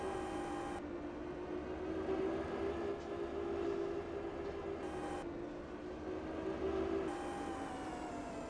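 A train rumbles steadily past in Farming Simulator 22, a continuous droning engine hum with a low rolling undertone and brief bright hisses, fairly loud and unbroken throughout.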